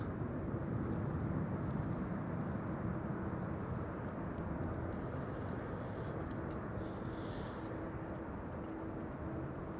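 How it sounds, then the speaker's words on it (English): Transavia airliner landing on runway 06 at Amsterdam Schiphol, heard from a grass field beside the southwestern threshold as a steady, broad jet roar with a faint high whine, at a moderate level. "This is Transavia flight 5356 arriving from Faro."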